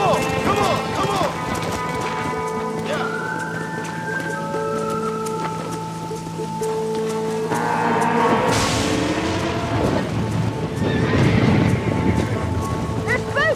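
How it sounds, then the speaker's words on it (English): Spooked horses stampede in the video game Red Dead Redemption, with a rapid rumble of hooves and thuds under urgent shouting voices and a tonal game score swelling throughout. "They're spooked! We have to stop and stampede them!"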